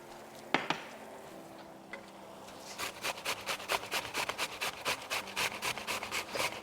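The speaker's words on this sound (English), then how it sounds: "I'm going to grate my tomato." A fresh tomato rubbed against a kitchen grater while a shrimp risotto simmers, a steady run of rhythmic rasping strokes growing regular and fairly loud after a few isolated knocks.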